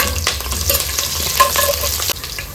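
Curry leaves dropped into hot oil for raw jackfruit sambar, a loud close crackling sizzle with bursts of spattering and stirring, one sudden drop partway through, no talk.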